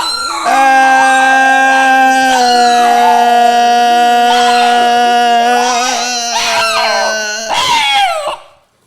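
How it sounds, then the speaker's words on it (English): Dogs howling loudly and close by, long sustained wailing tones that rise and waver into whimpering cries before cutting off abruptly, with no talking. "These dogs are going crazy."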